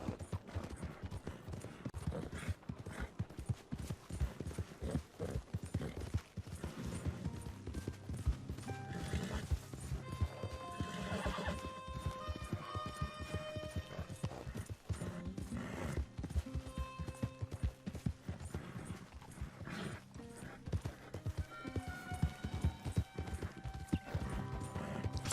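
Horse hooves clip-clopping at a steady gallop in Red Dead Redemption 2, rhythmic and continuous for the whole stretch under layered game music and ambience, with a brief whinny.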